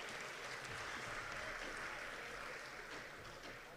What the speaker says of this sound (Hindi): जोरदार ताली आप मुख्य न्यायाधीश महोदय के लिए एक बार बजाइएगा